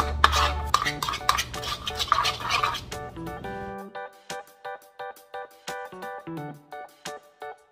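A utensil scraping and tapping in a pan while shrimp with olive oil and salt are stirred, first over a low sizzle, then as a series of distinct clinks and scrapes with quiet gaps between them.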